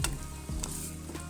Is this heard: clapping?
no